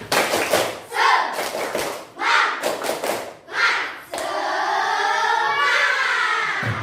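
An elementary school class claps a rhythmic cheer in patterned bursts of quick claps, then breaks into loud group chanting or cheering for the last few seconds.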